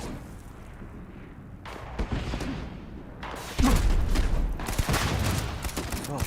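Gunfire in the space game Starfield, with bursts of shots and heavy thuds building to a loud barrage in the second half, dense and rapid with a possible rocket launcher blast, and a voice briefly heard.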